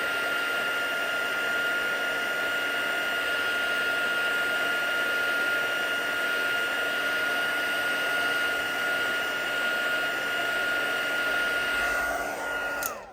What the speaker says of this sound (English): So I'm going to put the heat on this tool over it.